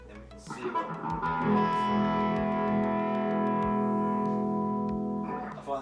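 An electric guitar plays through an amp with the mid control turned fully clockwise, a sustained, distorted chord ringing steadily with a rich buzzing tone before fading out.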